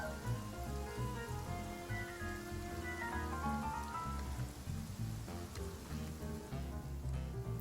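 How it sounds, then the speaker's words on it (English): Steady rain hisses in the video game Infinity Nikki, a constant soft wash under layered game music with a melody and bass. "Are you gonna stop raining?"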